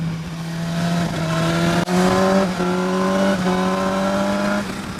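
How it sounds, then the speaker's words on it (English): A 2016 BMW S1000XR motorcycle under full throttle, its engine and intake roaring as the revs climb and drop through a series of quick clutchless upshifts, loud and steady with no talking. "the full throttle upshift is great"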